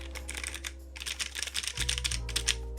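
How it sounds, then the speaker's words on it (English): Typing on a Freebird 60 mechanical keyboard fitted with iRocks Blue switches: steady, fast clicky keystrokes up close over a low background hum, with no voices. "Let's do a typing sounds test."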